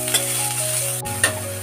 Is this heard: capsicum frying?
yes